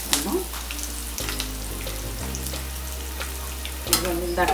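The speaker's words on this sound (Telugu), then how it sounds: "తాలింపు గింజలు వేగాయండి. ఇప్పుడు కారం వేసేస్తున్నాము." Tempering seeds and curry leaves fry in hot oil for gutti kakarakaya fry as chili powder is added, giving a steady close sizzle over a low hum, with brief clatters and a voice speaking.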